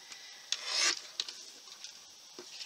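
Paper being trimmed for a sketch, heard as a short rasping cut or scrape followed by a few lighter scratchy strokes and taps, close and fairly loud in a quiet room.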